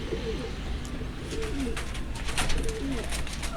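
Soft cooing of a young pigeon, a few low throaty coos repeating over steady background noise, with no talk.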